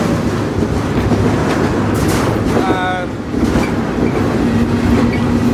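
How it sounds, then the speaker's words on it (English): A freight train rolling from Gary, Indiana into Chicago, loud and close with continuous rumbling wheels and clattering cars, a brief metallic squeal midway, and faint talk nearby. "There's definitely going to be a need to get off this train before it pulls into whatever yard it's going to in Chicago"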